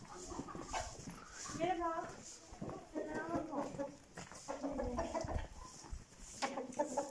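A village rooster crows a few times from a short distance, mixed in with people talking nearby and a dog barking, in rural Bağlıca, Kurtalan, Siirt, Turkey.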